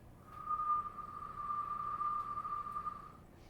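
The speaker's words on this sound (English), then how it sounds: "and then exhale whistling." A single steady whistled exhale from a breathing exercise, a thin pure tone held for nearly three seconds, fairly soft and close, with no talking.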